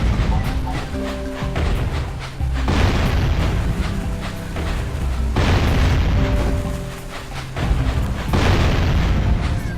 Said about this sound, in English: it's gonna be loud just for a second while these boys are exploding